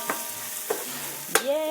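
Shredded plantain is stirred into a sizzling seafood soup base in a pan, with a few distinct scraping strokes over a soft, continuous fry; the last stroke is the loudest and leaves a ringing tone after it.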